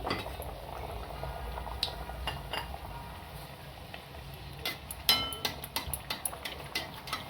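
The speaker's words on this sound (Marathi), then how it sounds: "तर आपलं तेल तापलंय. आपण त्यामध्ये अशी पुरी सोडायची." A sweet pumpkin gharge, a puri-like dough round, frying in hot oil: a steady bubbling crackle with light clinks of a utensil, growing busier and spattering toward the end.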